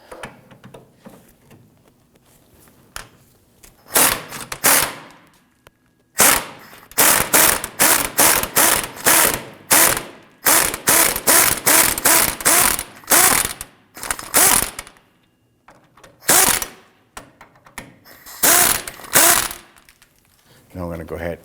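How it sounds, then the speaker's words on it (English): A ratchet with a 15mm socket works on a control arm bolt on a 2008-2011 Ford Focus rear suspension, giving loud, close bursts of rapid clicking in repeated strokes separated by short pauses. "We're using our 15mm socket."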